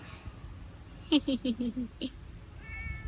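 A cat gives a quick series of about six short meows close by, then one more after a brief pause, over quiet background noise.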